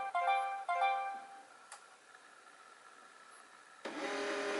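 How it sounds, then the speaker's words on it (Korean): An HP LaserJet Pro M28w laser printer printing, with mechanical whirring and tonal motor whines, a brief pause, then a louder steady feed noise, close and with no talking. "인쇄를 시작합니다."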